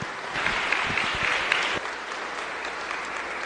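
A crowd claps steadily in a reverberant church after a confirmation at Sunday Mass, moderately loud at first and thinning slightly toward the end.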